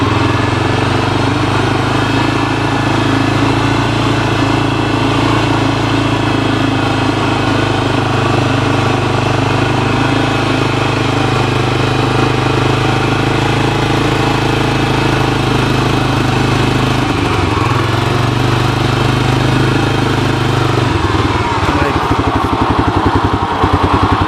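A 1985 Honda TRX250 ATV engine runs steadily and loud up close, a continuous rough idle with a low throbbing pulse that stumbles and changes pitch near the end, no talking over it.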